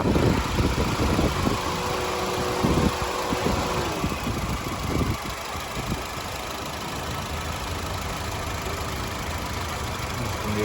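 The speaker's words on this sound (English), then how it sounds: "The car running sounds nice" A Honda City car engine idles steadily up close with the hood open, a low continuous rumble with some clattering mechanical noise early on before settling into an even hum.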